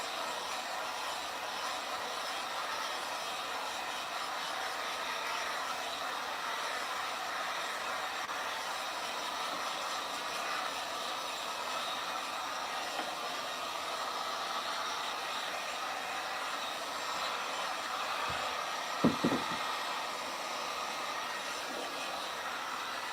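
A blow dryer runs steadily to dry paint on a piece of furniture, a constant, even airy whoosh held at one level throughout, with a couple of faint knocks near the end.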